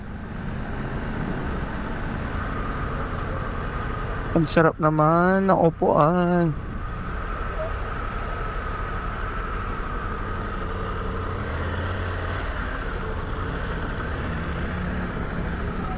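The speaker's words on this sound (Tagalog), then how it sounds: "At umiinit na yung makina." A Triumph Tiger motorcycle engine idles steadily in traffic, a constant low rumble running throughout, with a brief stretch of speech over it near the middle.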